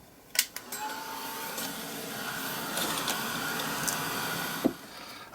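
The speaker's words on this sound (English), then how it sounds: "let's get the old heat gun on there again" A heat gun blows a steady close whooshing airflow that runs through most of the stretch, bracketed by a few sharp clicks and knocks.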